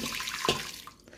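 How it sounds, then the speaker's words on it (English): Boiling water poured into a pressure cooker pot, a short splashing rush of liquid that fades out after about a second, close and without talk. "So let me get the boiling water in there. Right, so boiling water going in."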